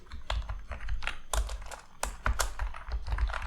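Typing on a computer keyboard, a quick uneven run of close, crisp key clicks with no voice over it.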